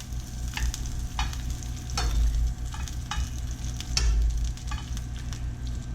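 Beef and salmon pieces sizzle and fry steadily in hot oil on a sizzle plate, with a continuous crackle punctuated by a few brief sharper spits and clinks, fairly close and with no talking.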